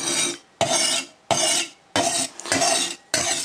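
A chopping knife drawn across a sharpening stone held at 90 degrees, in six close, even rasping strokes with short pauses between them, heard alone.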